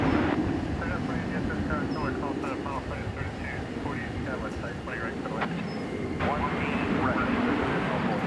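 An airplane arriving at DFW Airport on Flight 1961 from San Antonio, Texas, makes a continuous low engine rumble and roar that runs beneath ongoing outdoor talk throughout.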